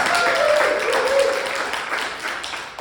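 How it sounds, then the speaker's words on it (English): Audience applause for two teen improvisers stepping forward at an improv summer camp, a steady wash of clapping filling the room for a few seconds, fairly loud and close. "Give them a round of applause."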